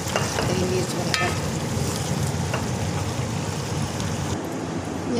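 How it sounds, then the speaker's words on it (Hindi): Garlic, ginger and green chili frying in a pan for a desi chicken curry give a steady, dense sizzle that holds evenly throughout, with no voices over it. "इसके साथ फ्राई हो जाएगा लहसुन,"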